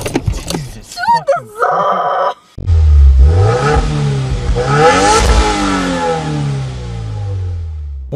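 A manual Subaru's engine revs up as a learner driver presses the gas, a rising, swelling roar that holds loud and close after a short pause. Voices are heard briefly at the start.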